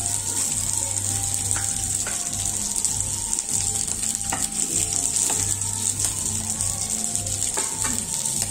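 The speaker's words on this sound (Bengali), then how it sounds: "মাছটা ভাজা হয়ে গিয়েছে" Fish frying in hot oil in a home kitchen, giving a loud, continuous hiss and sizzle throughout with occasional scraping and stirring clicks as the pieces are lifted out, and no talking.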